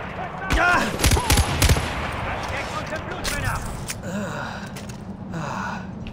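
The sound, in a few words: enemy gunfire in video game Far Cry 4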